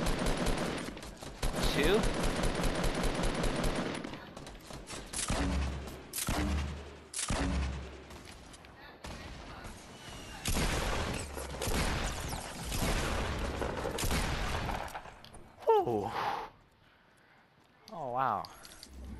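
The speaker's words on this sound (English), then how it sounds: "What was that guy shooting me with?" Fortnite gunfire aimed at the player comes in dense bursts of rapid automatic shots, loud and close, broken by short pauses, with a voice reacting between volleys.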